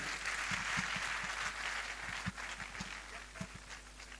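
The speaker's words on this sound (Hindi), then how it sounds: "जोरदार ताली मैडम यादव जी के लिए।" Applause from an audience at a Double Diamond celebration event for Mrs Yadav, a soft steady patter of many hands heard from a distance in a large hall, with a few sharper claps standing out.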